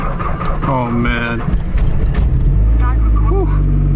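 A project car's engine cranks and fires up in cold winter conditions after sitting about a week on a low battery, settling into a loud, steady run close by, with a person talking over the start.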